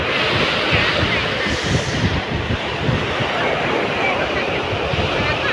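Sea waves wash onto the shore at a beach, a loud, steady broadband roar with wind buffeting the microphone and no clear breaks between surges.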